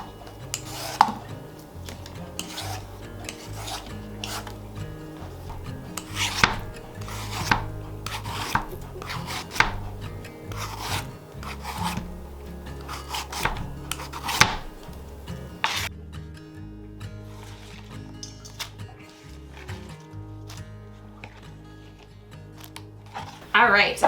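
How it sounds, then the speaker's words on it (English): Zucchini being peeled by hand, with repeated scraping strokes and occasional knocks on a cutting board in an irregular rhythm, close and steady throughout, with a person talking at times. "We're just peeling all of the zucchini."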